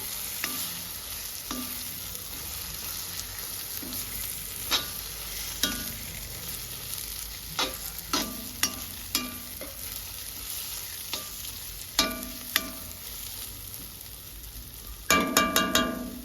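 Small fish curry frying in a pan while being stirred, with a steady sizzle broken by repeated scraping strokes of a spoon and a busier clatter near the end.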